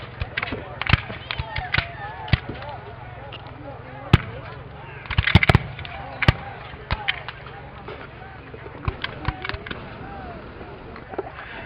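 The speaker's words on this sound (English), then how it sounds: "regular foot soldiers, firing 3-foot-tall rifled muskets, probably Springfield muskets from Springfield, Massachusetts Armory" Civil War re-enactment at Gettysburg where regular infantry fire rifled Springfield muskets: sharp cracks ring out at irregular intervals, some sounding far off, with a small burst of shots near the middle and faint voices in the background.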